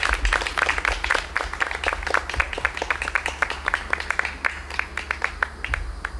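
Applause for a singing group performing in Dover, Tennessee, heard as a lively audience clapping with distinct individual claps in a quick, uneven rhythm, fairly close, with a low hum underneath.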